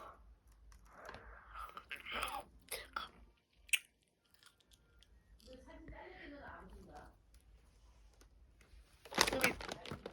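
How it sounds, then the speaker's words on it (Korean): Spicy snack chips being chewed up close, soft crunchy bites and mouth sounds in bursts, with a louder crunching burst near the end; quiet whispery breaths between bites. "그러니까 제가 한번 먹어보겠습니다"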